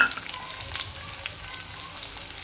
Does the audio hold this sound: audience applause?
no